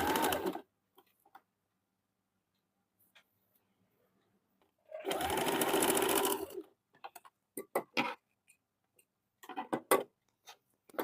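A sewing machine stitching the side strip onto a two-piece blouse, heard as a burst of rapid mechanical stitching of nearly two seconds, then a few short stop-start runs and ticks, with long quiet gaps between them.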